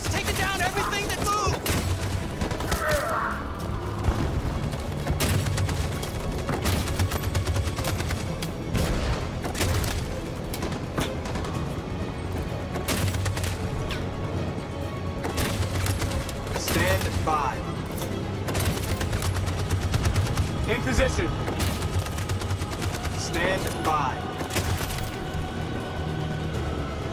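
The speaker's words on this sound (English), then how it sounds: "That machine gun has taken down everything that" Sustained machine gun fire and booming explosions in the Detroit Become Human battle, dense continuous bursts filling the scene with distant rumbling blasts and faint voices underneath.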